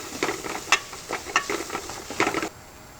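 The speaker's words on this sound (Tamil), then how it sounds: "எல்லாத்தையும் நல்லா மிக்ஸ் பண்ணிடலாம்." Garam masala, turmeric, chili powder and coriander powder being stirred into softened onions and mint in a hot pan: close, brisk scraping strokes over a low sizzle, several in quick succession, ending abruptly into quiet.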